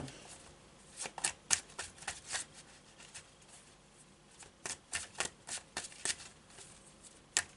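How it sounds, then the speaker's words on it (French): Marseille tarot cards being shuffled and drawn, with crisp riffling and snapping flicks in quick irregular clusters, close and fairly quiet with no talk. "je vais quand même prendre quelques cartes du Marseille pour voir si on a quelque chose d'autre"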